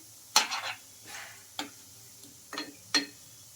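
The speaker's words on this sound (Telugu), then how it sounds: "ఇంకా అటు ఇటు తిప్పుకుంటూ మంచి కలర్ వచ్చే వరకు అయితే ఫ్రై చేసుకోవాలి వీటిని" Semolina snacks turned in hot oil: a few sharp scraping stirs against the pan over a quiet background sizzle, in irregular bursts, no talking.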